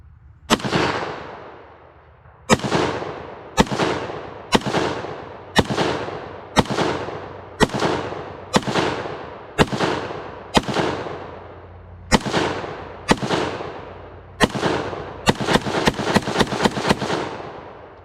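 An IWI Ace-21 Galil pistol firing outdoors: loud, close single shots with echoing tails at irregular intervals, then a quick rapid string of shots at the end.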